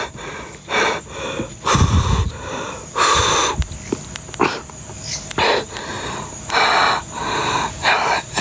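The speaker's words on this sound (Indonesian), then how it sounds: "Bentar ya, gua atur napas dulu." Heavy, ragged breathing comes right up close, with repeated wheezing inhales and gasping exhales in an uneven rhythm, loud and alone, like someone catching their breath after exertion.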